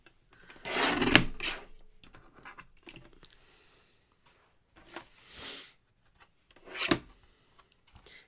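Card paper being trimmed at a crafting table, with a few short scraping, rasping cuts and sliding strokes in quick bursts, close and fairly quiet with pauses between them.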